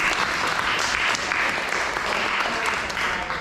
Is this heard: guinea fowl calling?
no